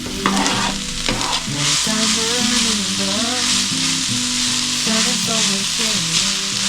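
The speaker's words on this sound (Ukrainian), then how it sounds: "Обсмажую тут цибулку з морку і бурячок." Onion, carrot and beetroot sizzle steadily in a pan as they fry for borscht, with stirring scrapes, while a song plays in the background throughout.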